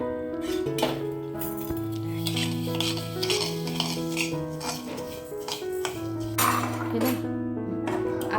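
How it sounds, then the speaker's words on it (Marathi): Spoon scraping and stirring sugar as it melts in a kadhai for til papdi, a steady repeated stirring under continuous background music with clinking pan sounds. "साखरेला आपल्याला सतत हलवत राहायचं आहे नाहीतर ती जळू शकते"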